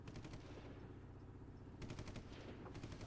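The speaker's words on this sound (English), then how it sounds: "I guess the gunfire wasn't a dead giveaway" Machine gun fire from special forces in the video game Dead Rising: rapid rattling bursts at the start and again in the second half, separated by a lull, fairly faint and distant.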